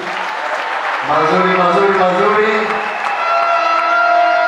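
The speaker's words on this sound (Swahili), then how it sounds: "Pigieni makofi mazuri." Audience applause at a church gathering in Kenya after the pastor calls for a good round of clapping, a dense steady wash of hands that swells after a second and holds for several seconds, with voices mixed in.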